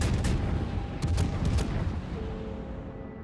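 Heavy naval guns of the cruiser Hindenburg in World of Warships fire in a quick volley of loud booming blasts that roll off into rumbling echo, with no talking.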